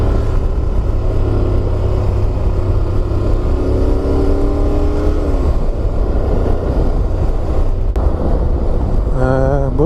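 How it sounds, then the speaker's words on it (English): A 2024 Honda NC 750 X DCT motorcycle on its standard exhaust drones loudly and steadily under riding wind, with gear shifts and revs rising through the pitch and a final climb at the end. "It always seems to get a nice sound out of the standard exhaust."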